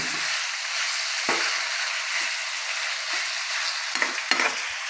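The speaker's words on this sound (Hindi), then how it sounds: "और इसको अब हल्की आंच पे भूनना है हमने" Chicken qeema masala fries on low heat in a pan, giving a continuous soft sizzle broken by a few scraping stirs of a spoon near the end, close and steady with no talk.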